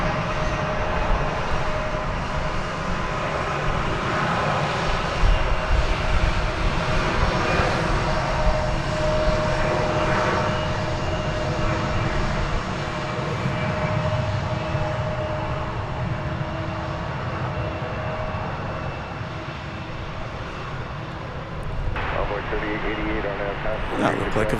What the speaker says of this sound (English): We're going to take a look at American Flight 1198 coming in from San Francisco on Runway DFW